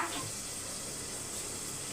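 Water pours steadily into a cooking pot holding a coconut-milk dish for a festival offering, a soft, even, continuous splashing rush that stays faint and unbroken throughout.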